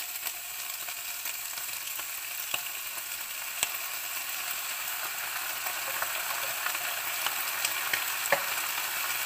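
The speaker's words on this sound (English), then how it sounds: "Now we'll add our drained beans." Drained beans tipped into a hot pan of sausage cassoulet set off a steady, close sizzle and fry, with a few sharp clicks and scrapes of stirring over about nine seconds. No one speaks.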